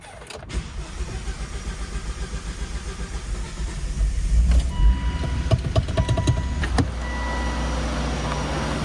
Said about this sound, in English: I'm just gonna try to start it now.